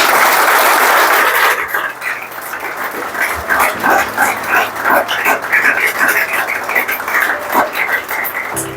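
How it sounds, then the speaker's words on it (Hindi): A small group claps for about seven seconds to celebrate a year of sobriety at a drug rehabilitation centre, the applause moderately loud and uneven, starting after a short burst of noise. "एक बार ताली बनती है यार"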